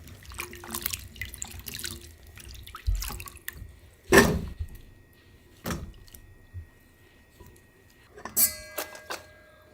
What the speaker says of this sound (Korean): 이렇게 떡쪽 썰은 거에다가 물을 좀 부으세요. 그래서 살짝 한번 헹궈 주세요.